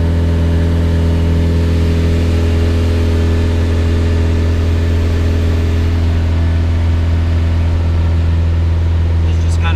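F20-swapped Honda Integra engine holding a steady cruising throttle on a dyno, a loud, constant mid-pitched drone with strong harmonics and no revving, running alone throughout.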